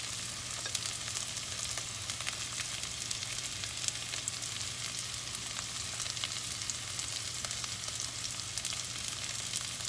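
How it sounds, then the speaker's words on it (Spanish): Carrots and other sliced vegetables fry in a pan with very little oil, a continuous even sizzle with a soft crackle and a low steady hum beneath it, and no one talking. "vamos a echar las verduras, las que son también más gorditas, que tardan más en cocer"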